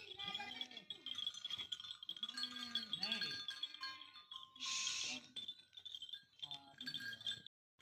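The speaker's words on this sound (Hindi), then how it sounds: "बर्बरी नस्ल के बच्चे हैं ये" Young Barbari breed goat kids bleat repeatedly at a goat farm, several wavering cries near the microphone with brief gaps, alongside metallic clinks and a rattling burst.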